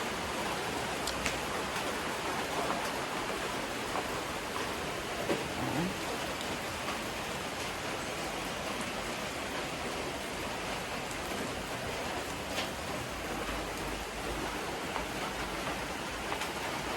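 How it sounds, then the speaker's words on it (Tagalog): Typhoon Uwan brings a steady downpour, heard as an even, unbroken wash of rain noise with a faint low rumble underneath and no one speaking. "Sirag ulan."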